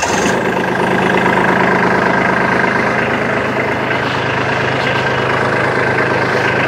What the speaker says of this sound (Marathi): यासाठी आपण ट्रॅक्टर चालू करूया पहिल्यांदा